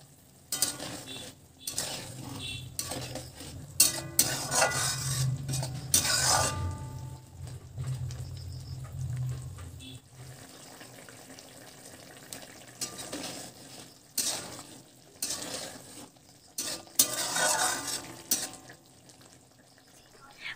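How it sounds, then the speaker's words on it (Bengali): Vegetables stirred in a pot, with intermittent scraping and clinking of a spoon against metal and a low bubbling sizzle, coming in bursts with quieter gaps, close and moderately loud. "এখন বন্ধুরা, সবজিটা ভালো করে একটু নাড়াচাড়া করে নিচ্ছি"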